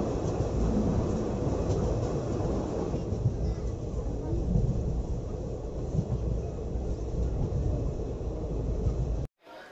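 Inside a passenger train bound for Vasco da Gama, Goa, a continuous loud rumble of wheels and carriage runs steadily, close and unbroken, until a sudden cut near the end.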